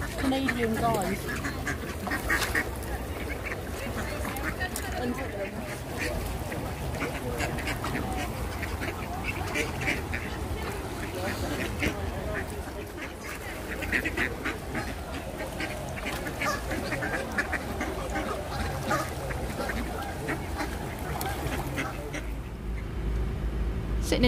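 Canada geese honk alongside quacking ducks and other birds in an outdoor car park. The calls are dense and continuous at moderate distance, with people talking throughout.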